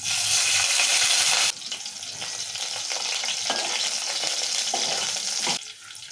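Green chillies hiss in hot oil with cumin and mustard seeds, starting as a loud bright sizzle, then settling into a steadier crackle with stirring, and surging again at the end.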